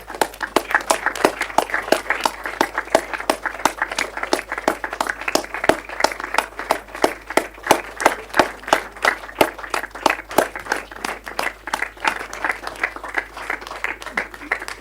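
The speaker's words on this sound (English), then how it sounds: "When you clap for 2 minutes loudly, the energy level in the room rises. So let's clap for 2 minutes." A meeting audience claps loudly and steadily in a dense, sustained burst of hand claps with a fairly even rhythm, filling the room without pause.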